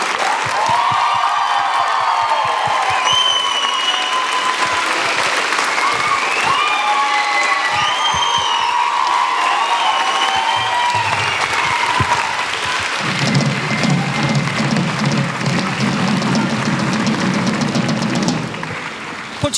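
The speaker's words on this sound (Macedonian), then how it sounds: "Да ги поздравиме со аплаузи двете професорки Даниела и Симона." Loud, sustained applause from a large audience at a university tribute ceremony, dense clapping throughout with some cheering mixed in, fading slightly toward the end.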